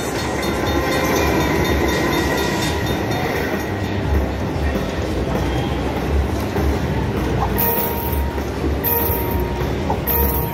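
A slot machine's train sound effect on a high-limit Cash Express Luxury Line machine in a Las Vegas casino: steady rumble with rhythmic clatter of wheels on track, loud and continuous, with brief high squeals near the end.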